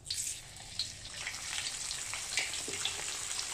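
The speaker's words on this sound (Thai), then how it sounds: "ตอนนี้น้ำมันก็ร้อนจัดขึ้นมาแล้วนะพี่บ่าวก็จะใช้กระชอนแบบนี้รองลงไปแล้วก็เอาหมูวางส่วนหนังลงไปก่อน" Pork belly laid skin-side down in very hot oil with a strainer fries with a loud, continuous close crackle and sizzle, sharp pops spattering throughout.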